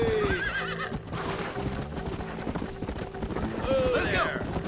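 A horse in a Western video game neighs and its hooves clip-clop, with a whinny near the start and another near the end over steady hoofbeats and background music.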